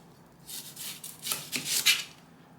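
Knife cutting an onion into small bits on a board, a few close, crisp slicing strokes in quick succession that grow louder toward the end.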